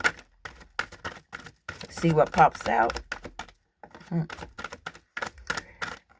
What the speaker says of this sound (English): I'm going to shuffle these cards and see what comes up.